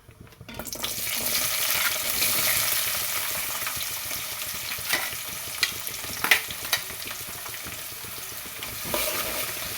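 Onions and green chillies frying. The sizzle swells in after a quiet start, then holds steady with a few scattered clicks of stirring.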